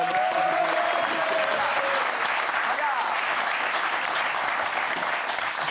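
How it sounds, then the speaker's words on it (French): Sustained applause from a TV studio audience, dense and steady, holding at an even, loud level for several seconds with a faint voice briefly audible under it. "Applaudissements pour elle."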